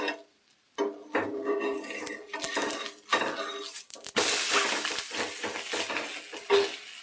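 Ragi roti being turned on a hot pan in a home kitchen, with scraping and clinking of a utensil against the metal and light sizzling, close and irregular.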